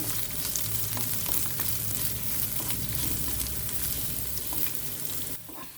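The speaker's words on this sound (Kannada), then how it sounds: "ಈರುಳ್ಳಿ ಹೆಚ್ಚಿಟ್ಕೊಂಡಿದ್ದೆ ಅದನ್ನು ಹಾಕ್ಕೊಳ್ಬೇಕು ಇದು ಸ್ವಲ್ಪ ಕೆಂಪಗಾಗಬೇಕು" Chopped onion fries in a pan for a drumstick fry, a steady close sizzle with occasional stirring scrapes that runs throughout and drops away abruptly near the end.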